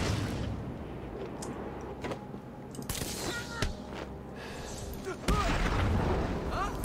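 A grenade explodes in the Batman: Arkham City video game: a sudden loud boom late in the clip, after scattered thuds and impacts amid ongoing game noise.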